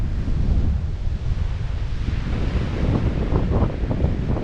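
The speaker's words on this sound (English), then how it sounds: "We're out on a point of land where waves are coming from that side and that side." Ocean waves crisscross off a point of land near Loreto, Mexico, making a steady, close surf roar mixed with heavy wind buffeting the microphone throughout.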